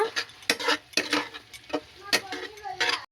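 Pasta tossed with masala in a pan while cooking: repeated scraping and clattering of a spoon against the pan, irregular strokes over about three seconds, close and fairly loud.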